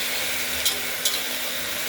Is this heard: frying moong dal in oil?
yes